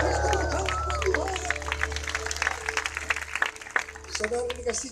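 Crowd clapping and cheering at a church healing crusade, a dense wash of applause from a large congregation with scattered shouts and voices mixed in throughout.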